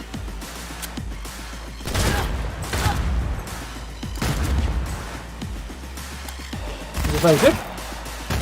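Bursts of gunfire in Cyberpunk 2077, with a few loud clusters of shots and impacts separated by quieter gaps, under a game voice and someone talking.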